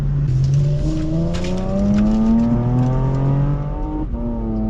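A 2016 Porsche Macan GTS SUV engine drones loudly and close from inside the car, its pitch climbing smoothly through a gear before dropping at a shift and rising again, with no talking.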